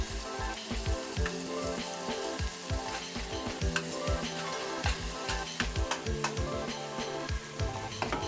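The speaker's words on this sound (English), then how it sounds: "For the first step, I like to fry the onions and tomatoes." Onions and tomatoes fry in a pan for a vegetarian ABC soup, with a steady loud sizzle broken by frequent scraping, clattering stirs of a utensil against the pan.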